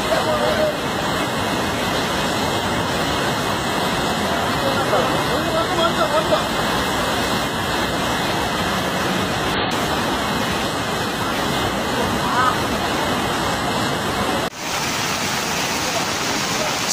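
Floodwater rushing in a constant loud broadband roar near a forest bridge after a landslide in Kerala, steady for most of the stretch with a brief dip near the end.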